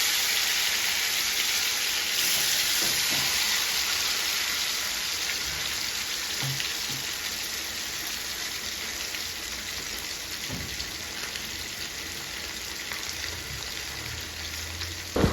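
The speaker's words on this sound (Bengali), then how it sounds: "এবার মাছগুলোকে এক এক করে কড়াইতে ছেড়ে দেব।" Pieces of hilsa fish frying in a wok, a steady bright hiss that holds for the whole stretch with a few faint clicks and pops, close and alone without talk.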